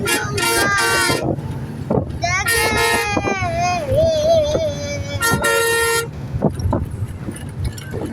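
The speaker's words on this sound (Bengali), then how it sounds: "বাসটা হরেন বাজাইতেছে পিপি পিপি" A bus crossing the Padma Bridge sounds its horn in loud, bright blasts, three times with pauses between, while a voice and other chatter carry on nearby.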